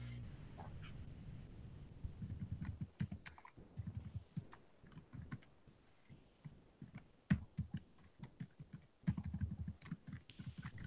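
Computer keyboard keys tapped in quick irregular bursts while playing a Scratch game, close and fairly quiet with short pauses between clusters of presses.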